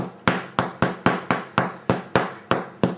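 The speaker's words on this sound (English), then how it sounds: "It should have a hollow sound when it's cooked." Bottom of a freshly baked roasted chestnut loaf tapped by hand, giving about ten quick, evenly paced hollow knocks, close and loud with no talking.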